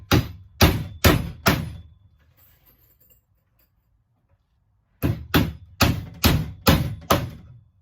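Nails are hammered into a wooden guardrail: a run of four sharp, loud hammer strikes, a quiet pause, then a second run of six evenly spaced blows, close by with no talking.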